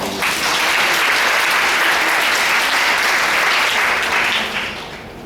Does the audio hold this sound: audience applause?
yes